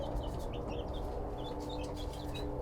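Bantam chickens, including a frizzle, cluck and chirp on a ranch. Soft, overlapping short calls sit over a steady low background hum.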